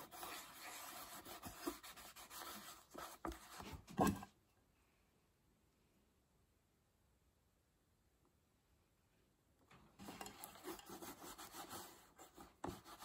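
A cloth rubs melted G-Wax into a leather knife sheath in quick, scratchy strokes up close for about four seconds, then near silence, then the rubbing resumes.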